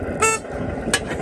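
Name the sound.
horn of 5-inch gauge class 37 model locomotive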